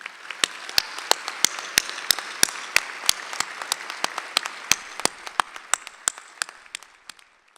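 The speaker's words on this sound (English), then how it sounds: "Let's have a round of applause for the Cooley faculty and staff" Audience applause for the faculty and staff at a Cooley Law School ceremony, fairly close and steady across the whole stretch, with many sharp individual claps standing out over a dense wash of clapping.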